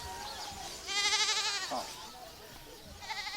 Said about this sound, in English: Kind of feel bad saying this about a goat that's about to die